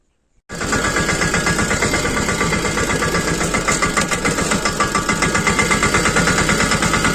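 A farm tractor engine starts after a brief silence, then runs at a steady idle with a rapid, regular diesel chug and knock, close and loud throughout.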